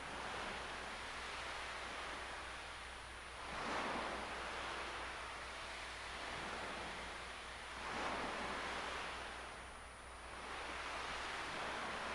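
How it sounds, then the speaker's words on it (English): Ocean waves ambience from the Chrono Cross Remaster video game, a steady wash of surf swelling into slow rolling crests about every four seconds, with no voices. "the ocean noise and the screen is definitely some good ASMR to go to sleep to"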